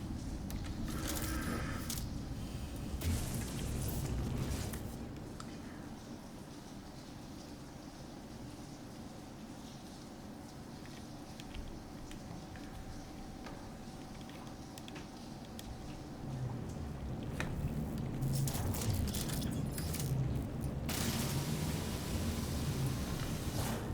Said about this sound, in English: Weather warning. Incoming storm.